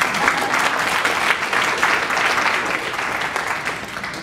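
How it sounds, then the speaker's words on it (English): Audience applause at a regional government meeting on immigrant and refugee affairs, a loud, continuous roar of clapping from a large room that holds steady throughout. "Let's give them a round of applause."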